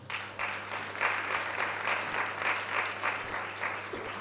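Audience at a breakfast meeting applauding while waiting for a UN speaker to reach the stage, steady sustained clapping from a moderately distant crowd over a low room hum.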